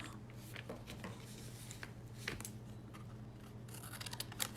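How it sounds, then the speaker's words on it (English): Scissors cutting paper for an art journal, a run of soft, close snips and crisp slicing strokes over a steady low background hum, with no voices. "Let's cut this up."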